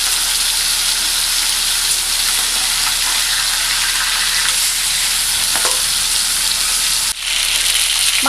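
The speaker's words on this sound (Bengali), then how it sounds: "মাছের মাথা ভাজা হয়ে গেছে," The head of a large catla fish fries in hot oil in a pan, giving a loud, continuous, dense sizzle throughout.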